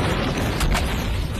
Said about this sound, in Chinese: 他让几人都瞄准一个油桶，然后同时开枪，其余的油桶也随之爆炸